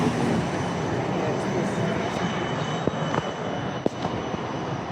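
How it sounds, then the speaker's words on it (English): Interior of a Melbourne Z class tram in motion, a steady broadband rumble of wheels and running gear with a few sharp clicks and knocks over rail joints. "We are on a Z class tram."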